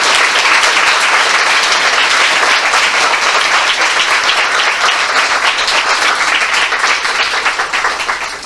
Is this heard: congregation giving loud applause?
yes